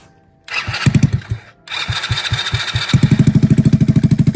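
A cheap drift cart's small engine is cranked and sputters to life: an uneven burst of rough firing, a brief pause, more stumbling pulses, then a fast, steady, loud putter close to the microphone.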